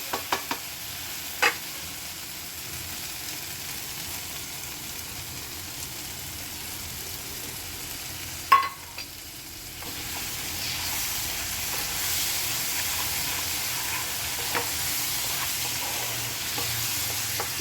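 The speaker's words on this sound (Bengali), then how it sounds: "মশলার থেকে তেল ছেড়ে এসেছে এখন আমি দইটা দিয়ে দেব" A spice paste fries in a pan for prawn curry as yogurt is added and stirred in, giving a steady sizzle with a few clanks and a sharp knock midway before the hissing swells louder.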